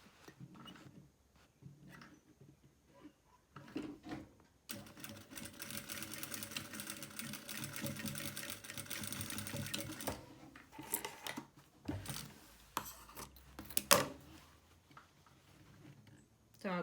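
Household sewing machine stitching the seam of a zippered fabric pouch, with a quiet, fast whirring run lasting several seconds between softer handling clicks and taps.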